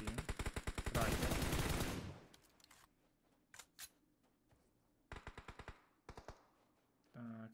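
Gunfire in a shooter video game during an esports tournament match: rapid automatic bursts, then scattered single shots and short volleys separated by brief quiet gaps.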